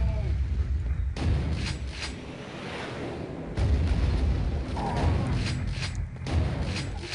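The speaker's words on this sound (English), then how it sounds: "So the first thing we want to do is lob the grenade." A grenade is lobbed in Quake 2 and striped boxes blow up: heavy booming blasts and deep rumbling that roll on through the clip, loud and close, with a few mechanical clanks.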